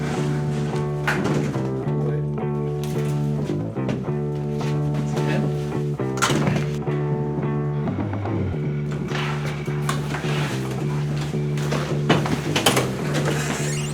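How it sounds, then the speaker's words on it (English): A slow, creaky elevator grinds and clunks along with a steady mechanical hum, occasional thunks and rattles recurring throughout, close and fairly loud with no talking. "Welcome to the world's slowest and creepiest elevator."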